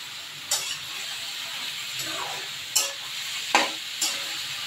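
Ash gourd frying in a pan with tomato just added, a steady close sizzle throughout, punctuated by several sharp scraping stir strokes at irregular intervals.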